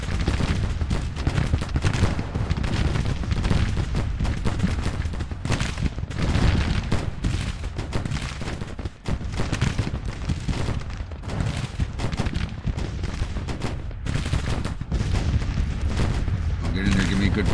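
Infantry musket volleys and distant artillery in Grand Tactician: The Civil War, a continuous crackling roll of gunfire with heavier booms, steady and dense from start to finish, with a voice speaking over the battle.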